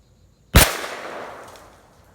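A single loud blast from a Franchi Affinity 3 20-gauge shotgun firing turkey loads at a target outdoors, a sharp crack followed by a fading rolling echo against near silence.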